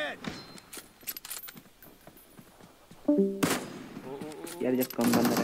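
Gunfire in PUBG Mobile, sharp scattered shots and short bursts, some distant and some close and loud toward the end, mixed with game clicks and effects while players talk over voice chat.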